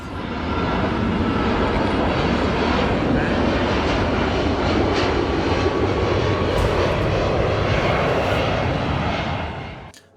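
A loud airplane engine roars past close by, a sustained rumbling whoosh that holds for several seconds before cutting off abruptly.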